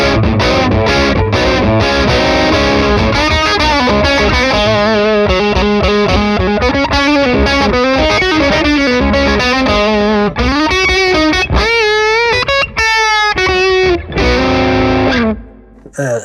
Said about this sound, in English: So if you're using a Strat on the bridge position, which obviously we all know is quite a bright sound, we can really fatten it up with this pedal.